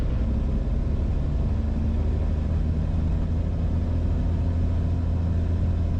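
Small airplane engine held at 1700 rpm throttle, heard from inside the cockpit as a loud, steady low drone and rumble with no change in pitch and no voices.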